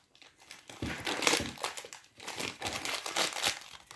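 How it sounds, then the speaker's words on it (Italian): A small plastic bag from a Cry Babies keychain toy pack is torn open, producing close, crisp crinkling and rustling that runs in bursts for several seconds with brief pauses. "Apriamo il sacchetto."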